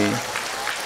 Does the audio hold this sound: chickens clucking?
no